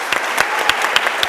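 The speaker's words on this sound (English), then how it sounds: "Big round of applause for them." Audience applause after a panel discussion on consciousness, a steady wash of many hands clapping with a few sharper individual claps standing out, fairly loud and close, no talking.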